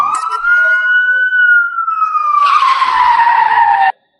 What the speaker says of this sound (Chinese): 数辆特警车疾驰而来